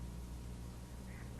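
Ducks quack faintly in the distance over a steady low rumble of outdoor ambience at a forest pond, the calls brief and half-buried in the background.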